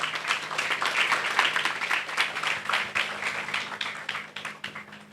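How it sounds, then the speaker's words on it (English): An audience applauds after a set of final presentations, producing a steady, dense patter of many hands clapping that continues throughout and tapers slightly at the close. "You all deserve a huge round of applause"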